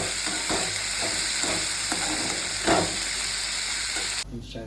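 Mustard seeds and cumin crackle and sizzle in hot oil, a dense steady frying hiss with scattered pops, close and fairly loud, easing off abruptly near the end.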